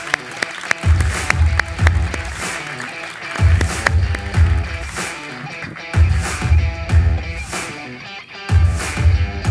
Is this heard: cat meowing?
no